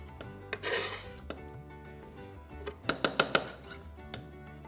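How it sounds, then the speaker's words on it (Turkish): Chopped onions tipped into a cooking pot, giving a soft rustling tumble followed by a quick run of four bright metallic clinks as a utensil taps the rim, then a lone clink, fairly close and quiet with no talking. "Soğanımızı doğradıktan sonra tenceremize, kabımıza gönderelim."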